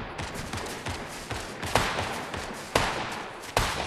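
Rapid, loud gunfire from the video game Fortnite rattles in a dense continuous burst, with a few heavier punchy shots standing out near the end.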